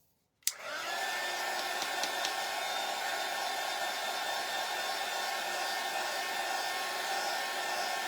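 A hair dryer switches on abruptly and runs with a steady, even whoosh and whine, drying Mod Podge on a small crafted gnome hat; close and continuous, no talking.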